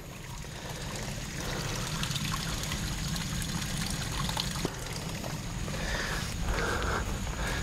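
Water trickling over a debris jam of a fallen trunk in an ephemeral channel of a forested Piedmont headwater catchment; a soft, continuous close trickle under a steady outdoor hiss.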